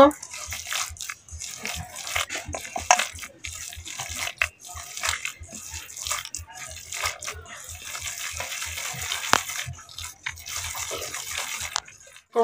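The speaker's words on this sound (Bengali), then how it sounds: "এবারে এটা হাত দিয়ে ভালো করে মেখে নেব।" A cornflour mixture is kneaded by hand, producing a rapid, rhythmic run of soft wet squelches and squishes. The pressing is close and steady throughout, with a few sharper slaps.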